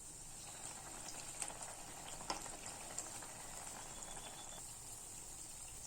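Chettinad kandharappam sweets frying in hot oil as they are flipped, giving a steady, even crackling sizzle throughout with a few faint clinks of a utensil against the pan.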